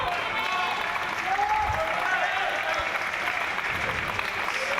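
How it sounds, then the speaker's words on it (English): A Great Britain crowd at the European Para Table Tennis Championships applauds steadily, a dense continuous clapping with some cheering, heard under a commentator talking. "the Great Britain crowd giving him a bit of encouragement as well"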